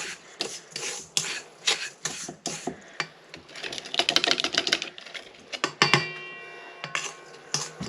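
A spatula scrapes around a mixing bowl while fruit cake batter is made, giving repeated rasping strokes that come in quick bursts, close and fairly loud, with no talking.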